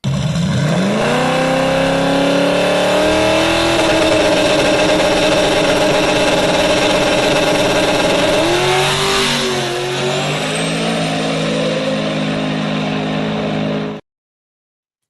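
A drag racing car makes a full pass, its loud engine revving hard from launch and climbing steadily through the gears, the roar holding strong for most of the run before easing and cutting off abruptly.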